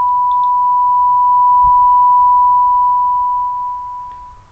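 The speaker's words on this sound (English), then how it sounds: "So I've got a 1K sine wave there, which you can see on the oscilloscope." A steady 1 kHz sine test tone from a signal generator hums continuously and evenly, loud and alone, fading slightly at the very end.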